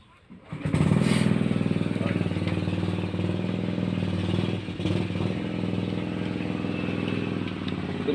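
A portable 7 hp petrol water pump engine starts up and runs close by, a loud, steady chugging drone with a slight dip midway, with people talking over it.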